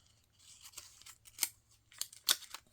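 Scissors snip through paper craft pieces in a few quick, separate cuts, close and fairly quiet, with a faint low hum beneath and no talk.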